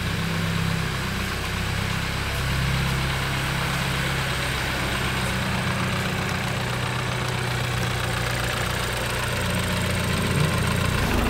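A car engine of a rebuilt BMW sports car runs steadily, a low continuous rumble and drone with slight roughness, close and constant for the whole stretch with no talking.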